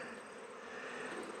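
Honey bees buzzing at a small mating nuc colony, a steady close droning hum of many bees without pause or voices.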